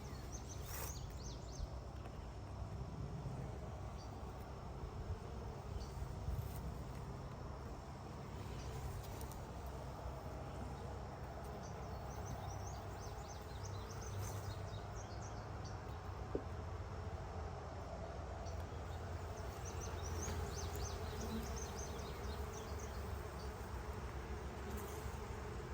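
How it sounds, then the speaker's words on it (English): Honey bees buzzing at a beehive during a hive inspection, a continuous close droning hum that stays steady throughout. "These bees are getting loud."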